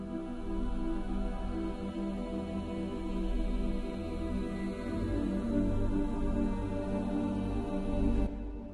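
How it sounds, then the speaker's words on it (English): Free Heavyocity Foundations series choir sample played dry, without any effects: a sustained, dense choral pad holding steady for about eight seconds, full and moderately loud, then cutting off abruptly near the end. "we're going simply for the free Foundations series choir by Heavyocity, and without any effect added to it"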